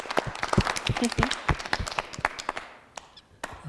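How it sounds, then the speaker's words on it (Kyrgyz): Audience clapping for the bride's mother at a televised matchmaking show, a burst of quick, uneven hand claps close by that thins out toward the end, with a few scattered late claps. "Апага дагы кол чаап коелу."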